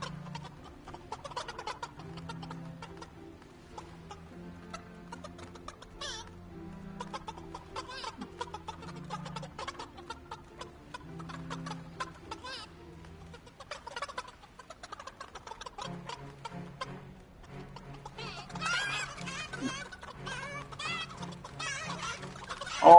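Chickens in the Fortnite video game cluck and squawk in bursts over a low droning background, the calls growing busier and louder near the end.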